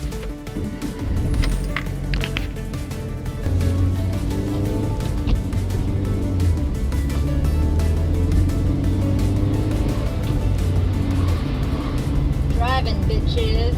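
A car driving along a road, with a steady engine and road rumble filling the background while music plays over it.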